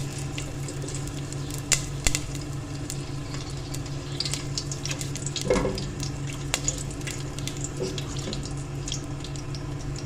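Black pepper and fresh curry leaves frying in a pan, a steady low sizzle with a running tap and watery clatter layered over it, no voices.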